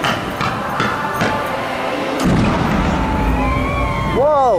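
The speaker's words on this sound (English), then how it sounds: "I'm watching the firework display" Fireworks booms pop and thud during the finale at Universal Studios, sharp bursts early on giving way to a deeper rumble, with people talking and exclaiming nearby.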